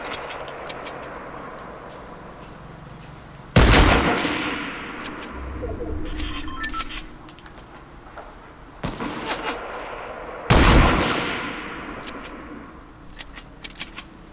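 Gunfire in the Fortnite video game, with two sharp loud blasts that ring out and decay, plus scattered softer clicks and shots among quiet game noise.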